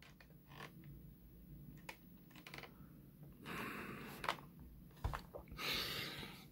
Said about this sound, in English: So that'll be the tape going around the head.